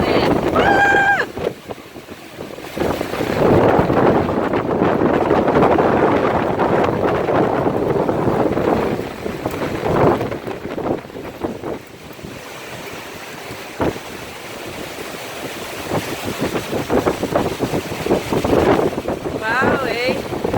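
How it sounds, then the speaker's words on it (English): Strong wind gusting around the outside of a house, a steady broadband roar that surges and eases over about twenty seconds, with a person speaking briefly over it. "Listen to that wind."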